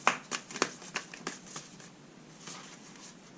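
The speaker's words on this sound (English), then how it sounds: "This deck is just a little bit challenging to shuffle." A deck of oracle cards riffled and shuffled in quick bursts of crisp fluttering clicks, loudest at the start and gradually softening, close up with no talking.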